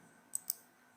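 Computer mouse clicks while confirming a TestRail account in Gmail: two quick, crisp clicks close together, faint and close, over a low steady background hum, with no voices.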